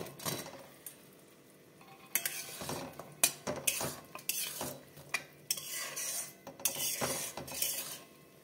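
Fried vegetable pakoras tipped into a pan of simmering manchurian sauce, with spoon scrapes and clinks against the pan and a soft sizzle, no voices.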